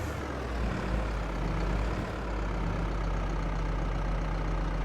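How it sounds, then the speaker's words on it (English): A tractor engine in the game Farming Simulator 22 runs steadily at high revs with the PTO engaged, a loud, continuous mechanical roar with no talking. "turn PTO. RPM's revved up."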